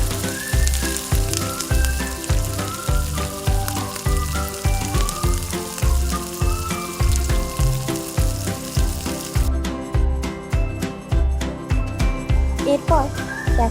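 Capsicum and grated carrot frying in a pan, a steady dense sizzle running throughout with regular stirring pulses and some light background music.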